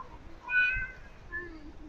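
A cat on a Florida fishing jetty pier gives one clear meow, followed by a softer second meow, faint against quiet outdoor background noise.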